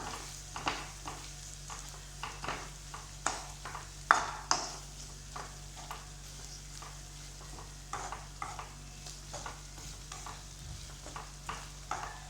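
Chili and coriander powder stirred into hot oil for beef varattu, a faint low sizzle with regular clinking scrapes of a spoon against the pan repeating throughout.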